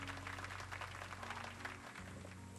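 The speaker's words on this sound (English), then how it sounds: "Have some applause here." Stock applause sound effect, a brief burst of steady crowd clapping at low volume over a faint background hum, with no voices.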